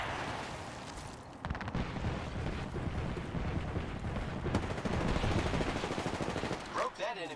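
Gunfire in the video game Apex Legends rattles almost without a pause in rapid automatic bursts that sound fairly close, with a voice speaking briefly under the shooting.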